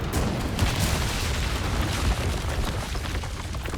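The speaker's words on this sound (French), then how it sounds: "Violent le canon." A cannon fires in Resident Evil 4 inside Salazar's castle, producing a loud, sustained roaring blast of broadband rumble that fills the whole stretch without letting up.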